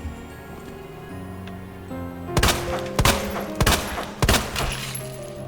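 Gunfire in Resident Evil 9, with four or five sharp, loud shots in irregular bursts cutting through a low game soundscape of tonal hums and faint ambience.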